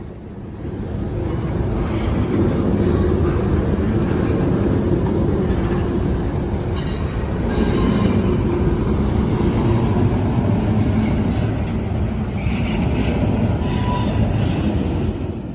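A freight train led by an ex-Norfolk and Western SD40-2 diesel locomotive rolls past, heavy steady rumble of railcars with intermittent high wheel squeal, loud and close throughout.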